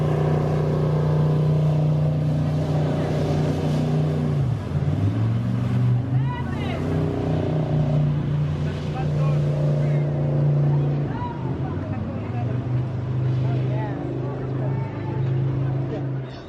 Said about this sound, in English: Right here, they're giving boat rides today right out here in the lake area.